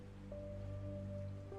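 Steady rain falls on a surface as a soft, continuous wash, faint and uninterrupted, with no voices.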